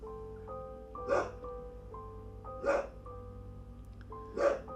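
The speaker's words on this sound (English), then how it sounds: "He was doing a big bark at nothing" A dog barks three times, single loud gruff barks spaced about one and a half seconds apart over quiet background music.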